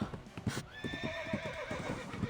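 A horse gallops with a steady, close clip-clop of hooves and a whinny partway through, the beats falling in a quick, regular rhythm.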